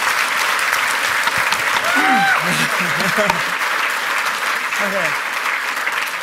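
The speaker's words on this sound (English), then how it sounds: "Guys, give them a huge round of applause." A conference crowd gives loud, steady applause for the speakers taking the stage, with a voice talking briefly over the clapping.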